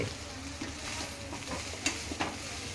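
Three eggs are stir-fried for fast-food style egg fried rice. A quiet sizzle runs under a few light spatula scrapes and taps against the pan, with no talking.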